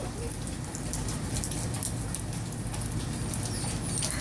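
Steady rain falls outdoors, a dense continuous patter of drops hitting surfaces close by, with no pauses and no voices over it.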